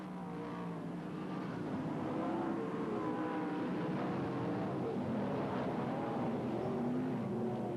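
Sprint cars race around a speedway oval in a steady, continuous engine roar that stays fairly distant and even throughout, with no talk over it.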